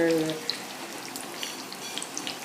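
Dulong, tiny fish, fried as flat fritters in oil, giving a steady close hiss of sizzling with faint crackles and a brief clink near the start.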